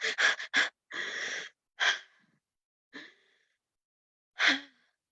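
Deep, controlled breaths for an anxiety-calming exercise: a quick run of sharp inhales, a longer steady exhale, then sparse single breaths with pauses between, close and clear with no talking.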